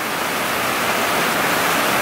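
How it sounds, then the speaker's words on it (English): Heavy rain on Providencia island in Colombia pours down in a dense, steady, loud roar with no breaks and no voices. "It's raining again so much."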